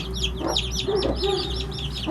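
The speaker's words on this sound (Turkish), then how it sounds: "Ama bu tavuk ve bakın arada civciv var." A hen clucks softly among chirping chicks, with the chicks' high, rapid peeps repeating throughout and the hen's low clucks coming in a few short bursts nearby.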